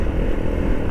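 An Royal Enfield-style Rx3 motorcycle rides through dense jungle forest, its engine giving a steady, close low drone with a slightly rough, throbbing texture and no voices.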